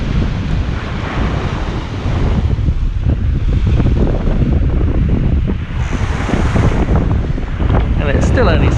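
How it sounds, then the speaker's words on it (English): Steady wind rushing over the microphone and waves washing against the hull of a Hallberg-Rassy 54 sailboat on a beam reach in 15–17 knots near Mount Pelée, continuous and loud with no voices. "The wind is lovely right now, 15-17 knots. We're on a beam reach."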